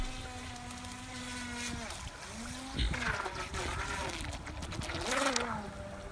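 A GoolRC GC001 RC speed boat runs on water with a whining motor whose pitch sweeps down and up as it slows and shifts into reverse, rising again near the end over faint water splashing.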